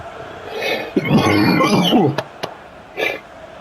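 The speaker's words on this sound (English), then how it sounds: "This cough will not fuck off." A person coughs and clears their throat nearby, a rough hacking burst followed by a couple of short sharp coughs.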